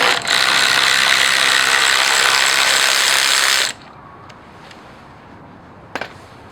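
A ratchet wrench turns a 13 mm bolt for the engine lifting hook on a BMW 325i M54B25, a fast, loud, continuous clicking for about three and a half seconds, then quiet with a couple of faint taps.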